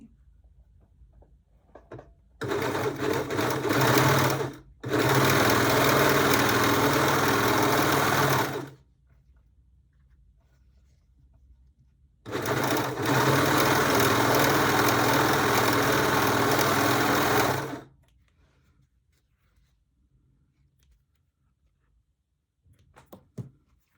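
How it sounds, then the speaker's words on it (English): Overlock sewing machine stitching the edges of a pants repair, two loud sustained runs of dense buzzing, the first briefly interrupted, separated by quiet pauses, close up and with no speech. "I will overlock here and here so it doesn't fray."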